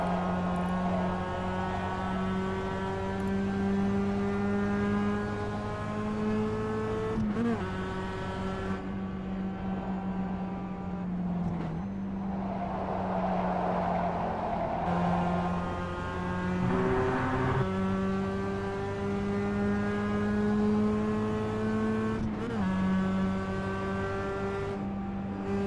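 Mazda MX-5 race cars circle Summit Point in the iRacing sim, a steady loud engine drone with harmonic whine holding through the lap, pitch dipping and rising with shifts and braking, no voices over it.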